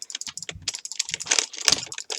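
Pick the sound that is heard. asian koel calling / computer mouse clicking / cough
computer mouse clicking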